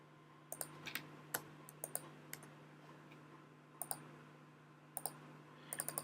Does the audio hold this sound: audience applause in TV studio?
no